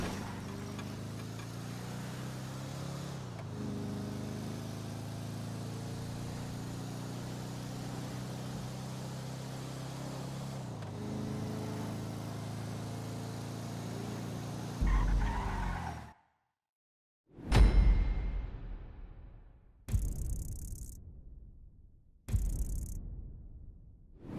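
Getaway car in a video game driving with a steady engine drone and tire noise for about fifteen seconds, then cutting off into a few short skidding bursts separated by silence.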